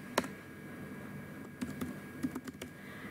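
Computer keyboard keys are pressed while entering data in a spreadsheet, giving a single click, then a short cluster of quiet taps and clicks near the end, close and faint, with no talking.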